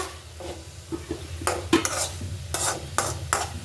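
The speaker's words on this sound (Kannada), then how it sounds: "ಮಶ್ರೂಮ್ ಎಲ್ಲ ಚೆನ್ನಾಗಿ ಫ್ರೈ ಆಗಿದೆಯಲ್ಲ" Mushrooms frying in oil in a pan, a faint sizzle under irregular scraping and clattering stirs of a metal utensil against the pan, close, with no talk.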